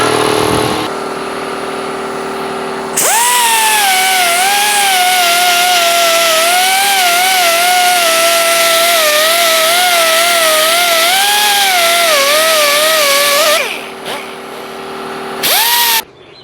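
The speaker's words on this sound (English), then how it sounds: "Fire up the old air compressor, and we're going to clean up the dipstick." An air compressor runs loudly and steadily for about ten seconds to blow clean a rusty dipstick, with a wavering motor whine and a broad hiss before it stops and briefly restarts.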